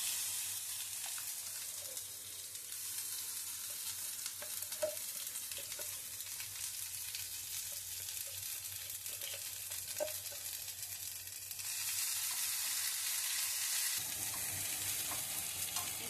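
Spice paste sizzling in a pan with bottle gourd leaves for a shrimp bharta, a steady close frying hiss with soft stirring clicks throughout, growing brighter and louder near the end.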